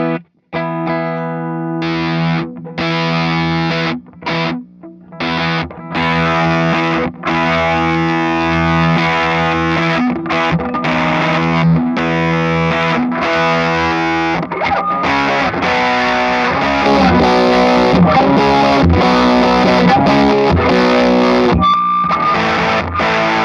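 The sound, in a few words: electric guitar through a classic fuzz pedal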